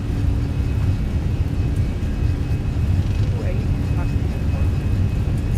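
easyJet airliner engines at takeoff power in Microsoft Flight Simulator: a loud, steady low roar and rumble that holds constant throughout, with faint talk underneath.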